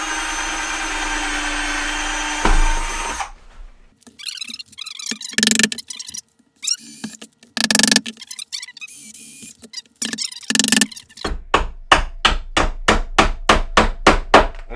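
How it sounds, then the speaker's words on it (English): Rivets are drilled out of a steampunk table, starting with a steady, noisy drill run, then scattered metallic clanks and taps, and ending with a rapid series of sharp strikes. "and drill these out."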